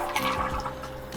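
Water rushes and splashes from a homemade DIY faucet in a brief, steady, close-up burst.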